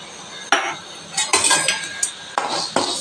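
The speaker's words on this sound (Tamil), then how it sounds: "முதல்ல வந்து மல்லி வறுக்கலாம்" Coriander seeds roasting in a little oil in a pan, with a utensil striking and scraping the metal in a few sharp, irregular clinks at close range and no voices.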